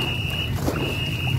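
A Ngo racing boat of the Chén Kiểu style from Đại Tâm, Mỹ Xuyên is rowed in training, with a close, steady wash of water and paddle noise and a thin high whine running through it.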